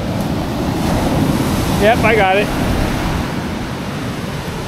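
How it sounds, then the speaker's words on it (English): Ocean surf rolls and breaks on a beach as a steady broad wash with wind buffeting the microphone, while someone speaks briefly in the middle. "See if I can get it before another big wave comes in."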